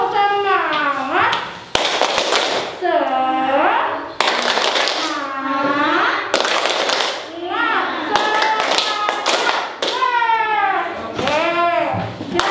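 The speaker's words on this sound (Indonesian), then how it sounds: "Ayo, tepuk semangat." Primary schoolchildren in an Indonesian classroom perform a rhythmic clapping chant, sharp bursts of synchronized claps alternating with loud sung chanting voices in a repeating pattern.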